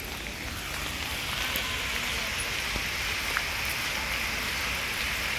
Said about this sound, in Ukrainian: Дощик зупинився і знову починає падати